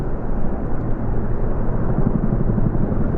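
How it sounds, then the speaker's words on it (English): Chinook helicopters passing over in a Platinum Jubilee flypast: a loud, dense, continuous roar of twin rotor blades and engines, heavy in the low end, steady throughout with no voices. "Rotary blades of the Chinooks."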